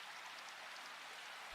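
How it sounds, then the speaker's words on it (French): Soothing rain falls evenly and softly as a steady, gentle hiss, with no pauses or voices. "restez un moment dans l'écoute apaisante de la pluie"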